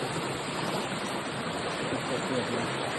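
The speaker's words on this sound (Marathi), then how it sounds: "पाण्याचा झोप केवढा आहे" A rain-swollen stream in a Konkan creek surges past in a constant, loud rushing roar, with a voice speaking briefly over the water.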